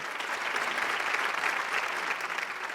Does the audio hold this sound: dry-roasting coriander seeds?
no